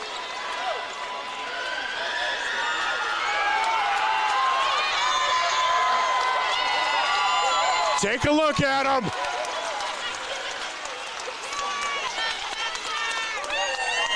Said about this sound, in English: That is our Tanager crowd, everybody.